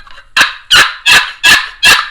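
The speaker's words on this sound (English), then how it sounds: "Oh, here's another turkey call." A handmade turkey call produces five loud, raspy gobble-like bursts in a steady rhythm, close and clear with brief silences between them and no talking.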